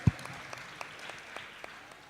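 Faint, sparse clapping from a conference audience at a closing plenary session: one soft thump, then a handful of light, evenly spaced claps with nothing else.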